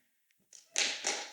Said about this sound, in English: If you think A was Dale Tuggy, clap your hands